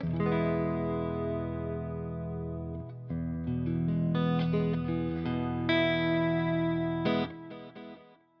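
Clean electric guitar chords through a Mesa Boogie clean amp tone and Mesa Boogie cabinet impulse responses ring out with shimmering chorus, echoing delay repeats and a touch of room reverb, played alone and fairly loud.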